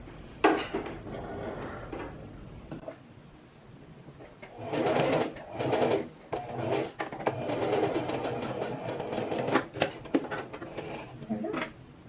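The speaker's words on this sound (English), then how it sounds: "going to sew from the outside" A sewing machine runs in bursts while stitching a dress seam from the outside, with a steady mechanical whir rising and pausing, and brief clicks and handling knocks between runs; nearby, fairly loud.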